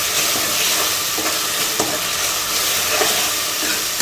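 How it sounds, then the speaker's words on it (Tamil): Onion, tomato, green chili, curry leaves and ginger-garlic paste sautéing in hot oil for a homestyle chicken gravy, a steady loud sizzle with occasional scraping stirs, no talk. "இப்போ நல்லா வதக்கிக்கலாம்"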